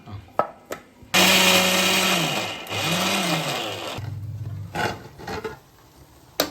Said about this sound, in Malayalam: തേങ്ങ, ചെറിയ ഉള്ളി, വലിയ ജീരകം അല്ലേ? പെരുംജീരകം, കറിവേപ്പിൻ്റെ അത് അരച്ചെടുക്കാം.